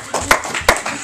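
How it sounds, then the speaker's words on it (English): A few sharp, loud hand claps ring out at a church service, spaced irregularly over about a second, with a faint murmur behind them. "Give the Lord a hand clap."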